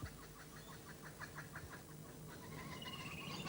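A laughing kookaburra from Australia's eastern woodlands gives its rapid, rhythmic cackling call, a quick run of repeated hooting notes that rises and carries on, fairly faint against a low background rumble.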